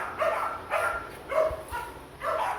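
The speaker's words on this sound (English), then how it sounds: "Dogs are noisy." Dogs bark repeatedly in separate bursts from some distance, with no talk over them, near a workshop where a rear bumper for a Chevy 2500 is being built.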